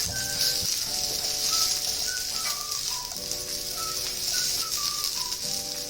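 Pakoras frying in oil give a steady, close sizzle with a bright hiss throughout, while faint tonal chirps and a low hum sit underneath.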